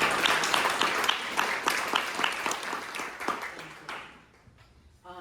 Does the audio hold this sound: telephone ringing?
no